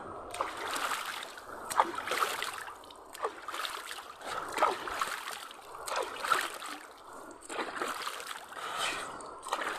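Water splashing by hand in an outdoor river as someone washes their face, a series of uneven splashes and trickles repeating through the clip over flowing water.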